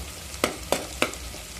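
Onions frying in a pan for an eggplant curry: three sharp, evenly spaced scrapes of a spatula over a faint, steady sizzle.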